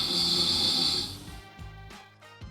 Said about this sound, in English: my phone got in on the fun and listened to how much I snored